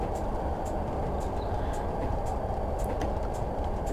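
A Class 101 DMU diesel train in Train Simulator coasting with power shut off on the Barnard Castle to Bishop Auckland line: a steady, dense rolling rumble with faint rail clicks and ticks, continuous and without speech.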